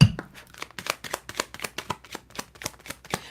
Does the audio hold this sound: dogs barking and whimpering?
no